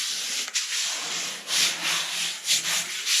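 Hand rubbing a peel-and-stick air sealing membrane smooth, a steady close dry swishing with a few louder strokes in bursts, no talking.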